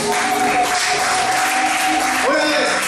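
A church congregation applauding together, steady sustained clapping that fills the whole stretch at even loudness, with a sung or spoken voice tone running faintly through it.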